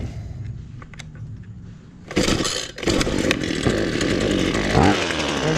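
A Ryobi petrol leaf blower pulls over and its small two-stroke engine catches, then runs loud and close with a rough, buzzing roar that wavers as the throttle shifts.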